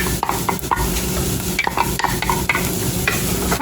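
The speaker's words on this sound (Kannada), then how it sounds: "ಇವಾಗ ಈ ಮಿಕ್ಸಿ ಮಾಡ್ಕೊಂಡಿರೋ ಕಾರ್ನನ್ನು ಹಾಕ್ತಾ ಇದ್ದೀನಿ." Blended corn is added to half-cooked beans in a pot and stirred, with loud, close spoon scrapes repeating over a continuous sizzle.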